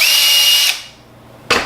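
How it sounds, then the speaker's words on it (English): A power drill whirs loudly and steadily for under a second, then winds down into quiet before a short second burst of the motor. "a drill"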